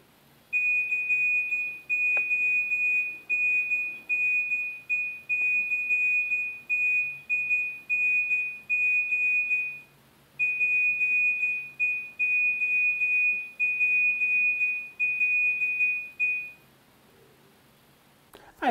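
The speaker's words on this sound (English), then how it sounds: "the famous logo in the Ascending ringtone" Nokia's Ascending ringtone beeps out a long Morse-code pattern of short and long electronic tones, steady and clear, pausing briefly midway before continuing.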